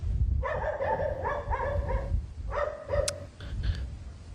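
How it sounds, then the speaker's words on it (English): A dog barks a few times at some distance during a live hurricane watch in Kingston Harbour, Jamaica, with wind and surf roaring steadily underneath. "And that is a dog."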